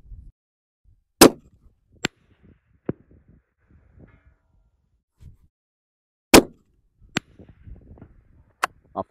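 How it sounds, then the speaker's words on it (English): Suppressed rifle shots heard from downrange on a shooting range: several sharp, isolated cracks spaced a few seconds apart, loud against near silence with faint low rumbles between. "that should give you a taste of what the suppressor sounds like downrange"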